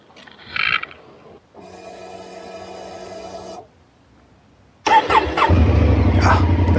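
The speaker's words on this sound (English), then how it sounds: "That exhaust note." A Honda Africa Twin motorcycle on a mountain ride in India gives a short burst of mechanical whirring, falls quiet, then its engine fires and runs loud and close with a throaty exhaust rumble.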